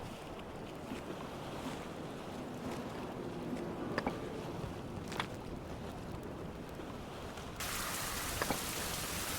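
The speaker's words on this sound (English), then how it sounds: "Rain again." Rain falls in the 16th-century survival video game Fountain of Youth as a steady, soft wash of drops, with a few faint clicks, and grows a little louder near the end; no one talks.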